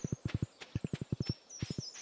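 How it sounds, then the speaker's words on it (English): A horse walks in the video game Stardew Valley, giving crisp, regular clip-clop hoofbeats in quick groups with short pauses, plus a faint high tone in the background. "Thanks for riding a horse over here."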